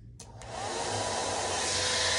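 Hair dryer switched on to dry a wet pet, starting with a click and then rising into a steady, close, loud blowing whoosh with no talk.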